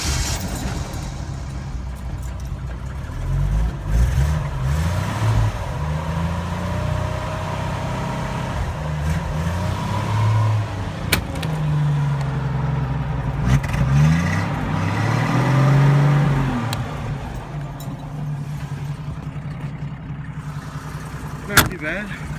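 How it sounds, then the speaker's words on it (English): A stock 1981 Jeep CJ7 with the 4.2L engine cold-starts at 15 degrees, the starter cranking briefly before the engine catches and settles into a loud, steady idle with rising and falling revs, close by, while someone talks over it. "Cranked up pretty fast."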